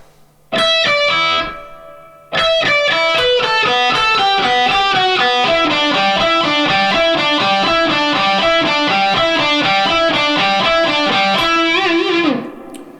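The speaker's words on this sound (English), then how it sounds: "I will just play this part with more distortion and at a bit more tempo." A distorted electric guitar plays the fast, driving main riff of a song, rapid repeated notes, loud and close, after a brief opening phrase and pause.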